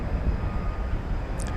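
A steady low jet rumble comes from an Airbus A321neo at DFW Airport on a late night, fairly distant and even throughout, with a faint higher chirp near the end and no voices.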